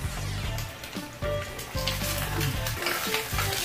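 Scrambled egg frying in a pan, a continuous crackling sizzle with rhythmic stirring scrapes repeating about every half second, close and steady throughout.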